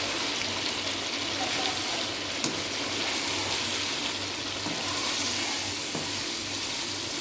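Coriander powder, cumin and chicken masala powder roasting in a hot pan, giving a steady, even sizzle and hiss that runs unbroken from start to finish, close and moderately loud, with no voices.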